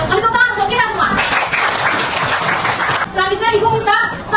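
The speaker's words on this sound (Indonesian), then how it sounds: "Kami tepuk tangan untuk kita semua." Children in a classroom burst into a short round of clapping that fills the middle of the moment, loud and close, with voices talking before and after it.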